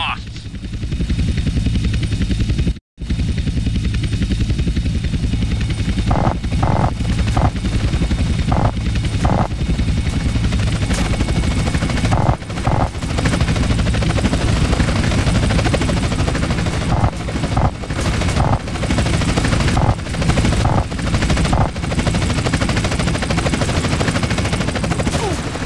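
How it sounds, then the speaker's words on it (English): Helicopters close in during a GTA San Andreas aerial interception mission, a loud continuous rotor drone filling the whole scene, broken by repeated bursts of gunfire. "Two agency choppers coming in on an intercept."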